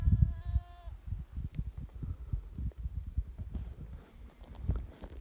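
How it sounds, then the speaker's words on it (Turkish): One goat bleat rings out at the start, then low, irregular thumping and rumbling noises continue for the rest. "Yukarıda keçilerimiz var."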